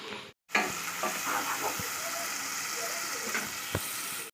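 Tomato and onion paste sizzles and fries in a pan for a prawn curry, a steady hiss broken by scraping stirs and a few sharp knocks of the utensil against the pan after a brief silent start.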